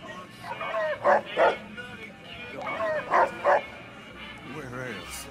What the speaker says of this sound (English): A cyborg dog named Rex.